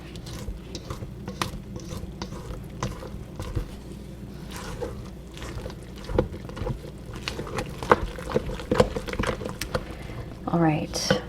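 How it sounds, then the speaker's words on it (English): Whole wheat bread ingredients mixed in a bowl, with irregular wet sloshing, patter and scraping taps against the sides, a voice talking over the stirring. "So I'm going to mix all of that up."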